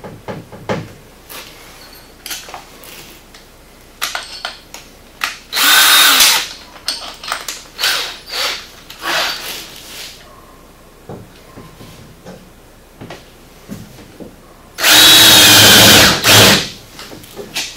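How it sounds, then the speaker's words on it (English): A power drill bores a hole in an aftermarket Pro Armor stealth door on a 2015 900S UTV, with two loud sustained bursts of drilling separated by scattered tool handling and clunks. "you're going to drill a hole in this door"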